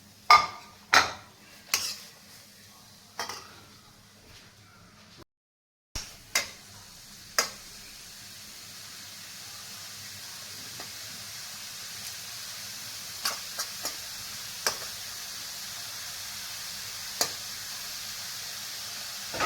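Chopped vegetables and ground paste for a Kerala thoran are tipped into spluttering mustard seeds in a pan, with sharp metal clanks and scraping at first, then a steady sizzle with occasional pops.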